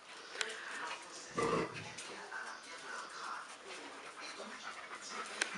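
Four-and-a-half-week-old Belgian Malinois puppies pant and snuffle close by while eating, with soft breathy panting continuing steadily and a brief louder burst of noise partway through.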